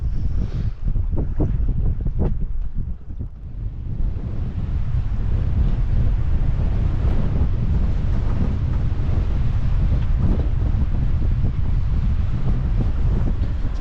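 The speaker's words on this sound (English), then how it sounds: "Getting just a little bit windy here, if you can't tell." Strong wind buffets a sailboat at anchor, a loud continuous roar and microphone rumble with gusty surges and water sloshing throughout, no talking.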